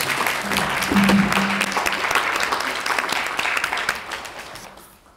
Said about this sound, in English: Would you give her a big round of applause, please?